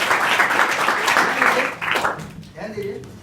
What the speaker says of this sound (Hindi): सबके लिए तालियां एक बार।